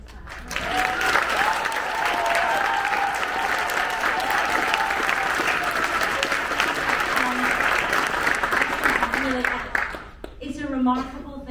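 A high school winter choral concert audience claps in sustained, even applause for about ten seconds, with a speaker's voice audible over it and continuing as the clapping fades.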